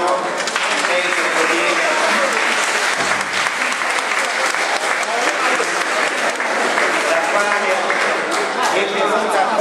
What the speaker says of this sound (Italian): vi prego di concludere con un grande applauso